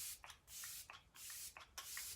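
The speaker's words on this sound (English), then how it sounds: "we're gonna go in with a little bit of the Let It Set setting spray and spray our face" Arbonne Let It Set setting spray misted onto a face in four quick, soft hissing pumps at a steady rhythm, close and quiet.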